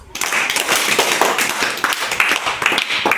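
Children in a classroom clap together in a quick, dense burst of handclaps that starts abruptly and continues evenly for about three seconds, close and loud.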